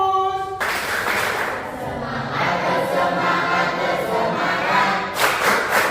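Classroom students perform the rhythmic "tepuk fokus" clapping chant together, loud group clapping and chanting voices filling the space after a short spoken lead-in.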